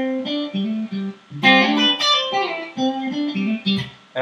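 An electric guitar plays a major 7 chord and then a Dorian quartal lick, with a quick run of sliding single notes and chord stabs, close and fairly loud with no voices.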